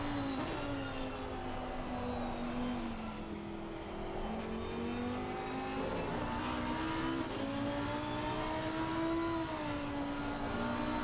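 Lamborghini Huracan GT3 race car engine in Assetto Corsa Competizione, racing at Mount Panorama in the rain, a steady droning whine that rises and dips through gear changes, moderately loud and continuous.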